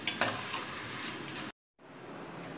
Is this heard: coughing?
no